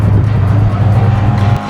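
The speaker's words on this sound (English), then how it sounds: "the engine's got a great visceral growl to it" A car engine gives a loud, close, deep growl, a steady rumbling drone with slight pulsing that holds for under two seconds before easing off at the end.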